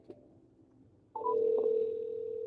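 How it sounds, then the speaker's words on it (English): Phone line tone while placing a call from a Samsung phone: a short low hum, then a steady, bright sustained tone that sets in abruptly and holds to the end, with no talking. "Let me make a phone call because they're not coming."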